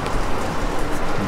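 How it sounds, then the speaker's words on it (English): Steady rain patters down in Colorado in a dense, even hiss with no break, close and moderately loud. "Raining on this side."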